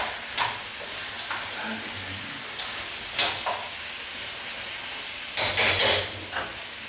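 Vegetables sauté in butter and oil with a steady close sizzle, punctuated by occasional spoon scrapes and clanks against the pot as they are stirred.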